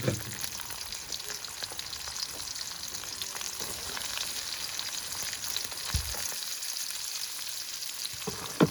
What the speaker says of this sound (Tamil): லைட்டாக வதக்கி எடுப்பேன்